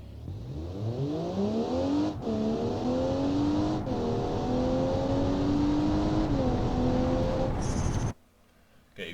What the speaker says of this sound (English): let's see what happens if I just select the S gear and we'll just floor the throttle